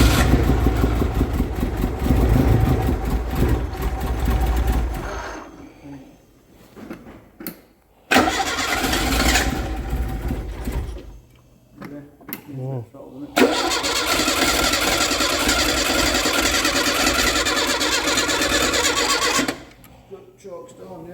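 A Renault 5 GT Turbo, worked on for clutch and head-gasket trouble, cranks and catches in several tries, then settles into a rough, uneven idle that cuts out and restarts, with people talking nearby.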